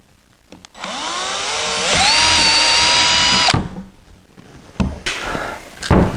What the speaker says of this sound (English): I'm going to drill one right there and one right there.